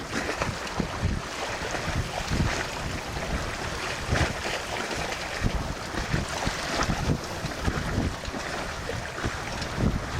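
Water laps and ripples around a sailboat running under both sails with the motor shut off on the way to Put-in-Bay, Ohio, while steady wind buffets past; a continuous, moderately loud wash with small irregular splashes and gusts.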